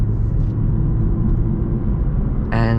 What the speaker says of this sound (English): when you hold the traction control button, the car sounds the best and also drives the best